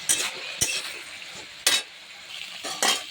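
Bengali chorchori, a mixed vegetable dish, cooking in a pan: soft sizzling under a few sharp scraping stirs of a spatula against the pan, close and alone without talk.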